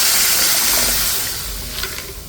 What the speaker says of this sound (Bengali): এখন এখানে গরম জলটা দিয়ে দিচ্ছি।